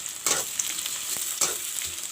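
Sliced onions and three bay leaves frying in hot oil for a pumpkin curry, a steady close sizzle broken by a couple of louder bursts as the pan is stirred.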